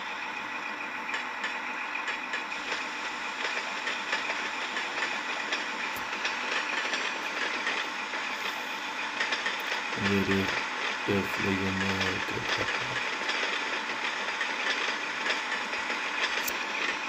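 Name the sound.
locomotive engine in Train Simulator video game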